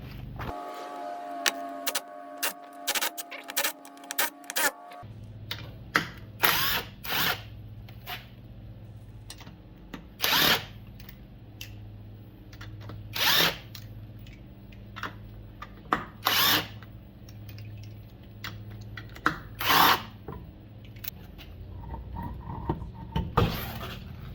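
A power tool, likely an impact gun, bursts repeatedly while breaking loose stuck guide pin bolts on a 2011 Subaru Legacy in a garage, a fast chattering run first, then sharp separate blasts over steady background hum, without speech.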